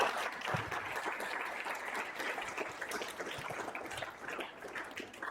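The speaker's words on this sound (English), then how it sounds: "I really feel we should give a round of applause to all the teachers" A crowd applauds teachers and principals at a school event, steady dense clapping holding throughout at moderate loudness with no break.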